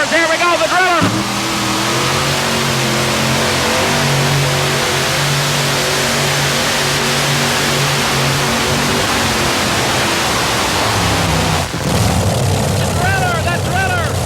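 A powerful tractor-pulling engine roars at high, sustained revs for a long stretch, droning steadily with a loud rumble, then drops off briefly before surging again.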